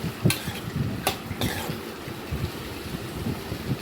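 Thin slices of pumpkin fry with onion in a pan, giving a low steady sizzle with a few sharp scrapes of a spoon or spatula near the start.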